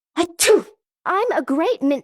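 A single loud, sharp sneeze bursts out close to the microphone at the start, followed after a brief pause by a voice speaking.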